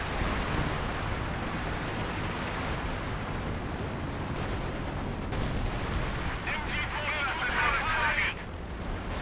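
Artillery and gunfire rumble through a Company of Heroes 2 battle in the Lienne Forest, a steady, dense barrage of booms and shots lasting several seconds, with voices talking over the din.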